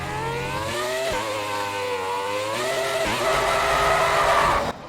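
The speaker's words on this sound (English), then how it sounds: "I just thought I'd let you listen to the engine sounds for just a brief second." Schumacher's classic Ferrari F1 car in the game F1 2020 screams at high revs with a sharp, harmonic engine tone, dropping and climbing with gear shifts across several seconds, loud and close.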